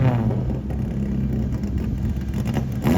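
Drag race cars at Bushy Park, a Honda K-Series against a Toyota 4AGE, revving loudly and close with a steady, sustained engine drone that briefly dips before climbing again, with no voices.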